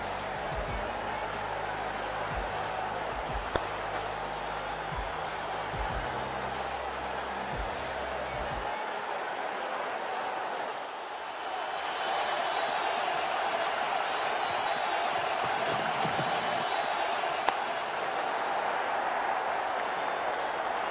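A stadium crowd in a cricket video game keeps up a steady, broad murmur of roar throughout. Low rumbling sits beneath the early part and the noise swells a little later on.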